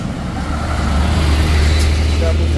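A UD truck on the road passes close by, its heavy low rumble rising and holding steady, with a voice talking over the traffic noise.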